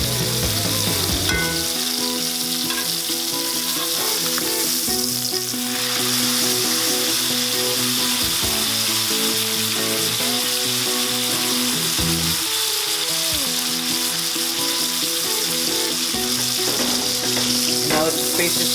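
Steak sizzling loudly in a hot pan, a continuous crackling fry with brief stirring and handling noises as the meat is turned, close and with no talk.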